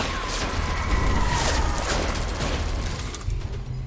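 Enemy gunfire in the video game Death Stranding: a rapid burst of mechanical shots and impacts with swept metallic tones, loud and close, easing off toward the end.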